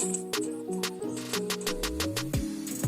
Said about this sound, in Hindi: ये रिंगटोन का है।